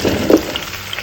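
Potatoes and fried onions sauté in a hot pan for a brief moment, giving a soft continuous sizzle with a light stirring scrape.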